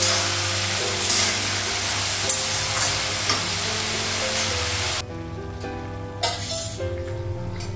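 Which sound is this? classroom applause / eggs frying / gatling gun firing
eggs frying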